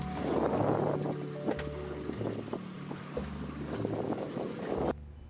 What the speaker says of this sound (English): If you're using a motorboat, be sure to go as slowly as is possible,